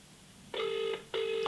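A telephone rings on a call, two evenly spaced electronic bursts sounding clear and fairly loud against quiet background hiss.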